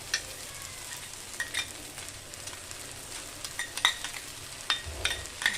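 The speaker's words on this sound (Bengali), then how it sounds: "দেখুন কোটা বাদামটা এর মধ্যে আমি দিয়ে দেবো, ভালো করে নাড়বো।" Chopped fried peanuts are stirred into eggplant bharta in a pan: a soft, continuous sizzle with scattered scraping and tapping of the spoon against the pan, close and fairly quiet.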